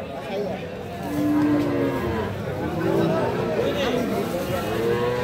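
A young Sahiwal cow moos with long, low, drawn-out calls at a cattle market, over a busy outdoor background of murmuring voices and general crowd noise.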